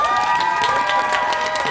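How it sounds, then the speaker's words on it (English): A crowd at a cosplay competition cheers and applauds the judges, with sustained shouts and whoops over a bed of clapping, loud and close for a brief stretch. "I would love it if you gave one more round of applause to the fabulous judges"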